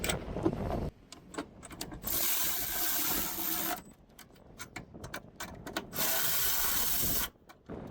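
Nuts being hand-tightened onto a filter dryer in a 2021 Freightliner Cascadia truck's AC system, giving bursts of close, dry scraping and ratcheting friction that alternate with short quiet gaps.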